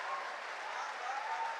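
Brief applause from the audience at a shayari poetry recital, a soft, steady wash of many hands clapping, fairly faint and uniform with no distinct voices.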